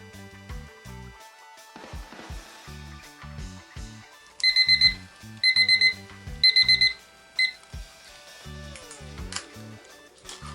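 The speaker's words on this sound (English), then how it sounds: "And I will turn on the timer and then hit fast forward." A timer alarm beeps in short rapid bursts, several clusters of shrill electronic beeps amid musical notes, loud and close with no talk.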